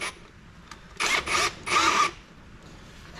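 A handheld drill runs in three short bursts, each lasting about a quarter to half a second, with brief gaps between them. The bursts are fairly close and moderate in level, and no speech is heard.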